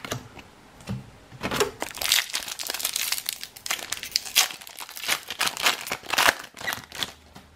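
Zendikar Rising booster pack wrappers crinkle and tear in dense, close bursts of crackling foil that run almost continuously, with no voices.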